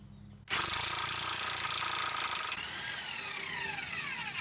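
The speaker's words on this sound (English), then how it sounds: "I'm just gonna remove this last bolt with my impact socket just to make it a little faster." Close, loud pneumatic impact wrench on a 2002 Acura TL-S, breaking loose and spinning out a stabilizer bar end link bolt: a sudden onset into a sustained rattling hammer that runs about four seconds, with a rising whine toward the end.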